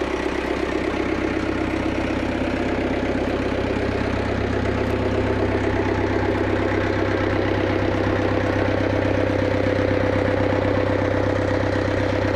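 A Cat 410D backhoe loader's diesel engine idles steadily and close, with a constant low rumble and even mechanical knock holding throughout, no talk.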